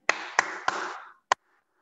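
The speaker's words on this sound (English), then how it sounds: "three times please clap for us" Three sharp, evenly spaced claps ring out close and loud from an audience at a workshop meeting, and a fourth lone clap follows after a short pause.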